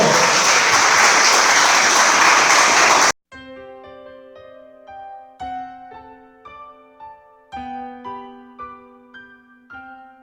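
A church congregation bursts into loud, dense applause for about three seconds, then it cuts off abruptly and gentle piano-like notes follow.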